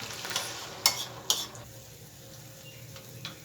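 An egg and chicken omelette mixture sizzles steadily in a frying pan, with a couple of sharp utensil clicks against the pan early on, then a quieter continuous fry.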